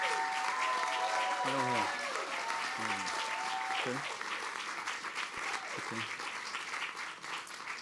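Audience applauding at a public library grand opening, a steady wash of clapping from a crowd that carries on throughout, with a voice briefly speaking over it.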